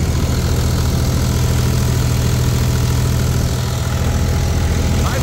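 A John Deere 5210 tractor engine runs loud and steady close by, a constant low diesel drone with a rattling mid-range tone and no pauses.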